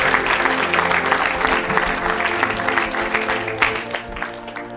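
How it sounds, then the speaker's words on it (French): A church congregation claps together during a deliverance service, producing dense, continuous applause that stays loud and steady throughout, with crowd murmur blended underneath. "Acclamons le Seigneur. Clap for Jesus."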